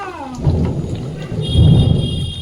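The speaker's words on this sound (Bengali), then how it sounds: "এই বাবা মেঘ ডাকছে" Thunder rumbling during rain, a low rolling boom that swells twice over a steady patter of rainfall, fairly loud and close.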